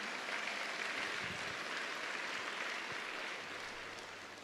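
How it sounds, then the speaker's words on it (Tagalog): A congregation at a church gathering applauding together in one steady, dense wash of clapping that holds for several seconds and eases slightly toward the end, with no talk over it. "Lakasan niyo yung palakpak niyo."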